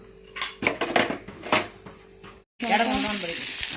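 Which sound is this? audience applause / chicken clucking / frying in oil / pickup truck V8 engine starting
frying in oil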